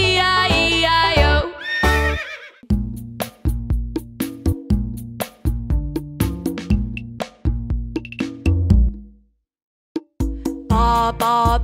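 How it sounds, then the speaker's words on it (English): A horse whinny sound effect opens a cheerful children's nursery rhyme arrangement of Old MacDonald, followed by bright plinking keyboard notes in a bouncy rhythm, with a brief pause before the music resumes. "With a neigh neigh here and a neigh neigh there"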